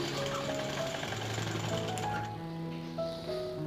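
A sewing machine stitches a baby frock, running in a steady, rapid mechanical patter at close range, with short pauses and changes in speed.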